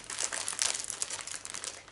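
Gold cellophane sheets being crinkled and handled up close, a steady bright crackling rustle running continuously with no talk.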